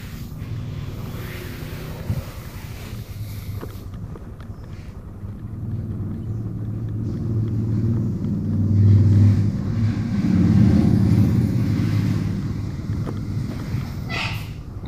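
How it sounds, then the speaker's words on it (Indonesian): A motorcycle rolls slowly along a bumpy, undulating rural road between Bogor and Sukabumi, its low engine rumble steady and close with heavy wind buffeting the microphone, swelling louder partway through; nobody speaks. "Ini saya bawa motor karena jalannya bergelombang, jadi pelan-pelan ya."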